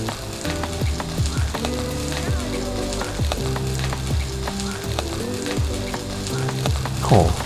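Steady crackling sizzle of fish frying in a spoonful of oil in a non-stick pan, with scraping and clinking of a utensil against the pan throughout.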